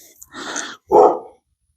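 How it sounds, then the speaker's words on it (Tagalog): A neighbour's dog barks twice close by, two loud rough barks in quick succession with a short gap between them, outdoors. "Nainis ako dyan sa aso ng kapitbahay namin. Tahol ng tahol."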